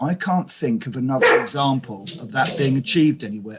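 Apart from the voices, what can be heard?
dog barking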